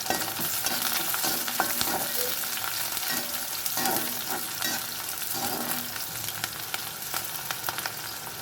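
Crushed garlic sautéing in a pan for a brinjal and mango curry, a dense, continuous close sizzle broken by repeated scraping stirs of the spatula.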